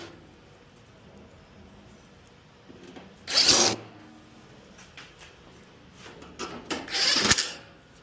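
A power drill drives a screw back into a Samsung front-loading washer during a bearing replacement, with two short, loud whirring bursts separated by quieter handling clatter.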